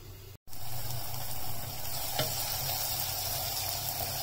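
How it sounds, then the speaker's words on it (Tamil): Chopped tomatoes sizzle in a covered pan of oil for a Chettinad-style mushroom kuzhambu, a steady close frying hiss broken by one brief cut near the start and a faint tap midway. "தக்காளி சீக்கிரமா வதங்கிடும்"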